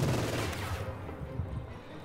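LMG machine gun fire during a battle in a real-time strategy game, a dense rattling fusillade of rapid shots that stays steady and fairly loud for two seconds, with distant battle noise mixed in.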